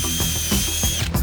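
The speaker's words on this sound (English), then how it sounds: "we mark out our caster placement and pre-drill the holes for the lag bolts that will sink them in" A power drill bores pilot holes through OSB for lag bolts that will hold casters on an exhibit base, a close, steady whirring grind with rapid ratcheting pulses and no speech.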